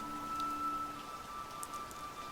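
Steady rain falls in a continuous hiss with scattered droplet ticks, even and moderately loud throughout, with no voices.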